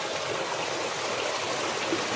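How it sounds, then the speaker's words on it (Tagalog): A strong, clear river flowing steadily, a dense broadband rush of water heard close and loud throughout, with no talking. "Pero sobrang sarap talaga ng tubig, ang lakas oh."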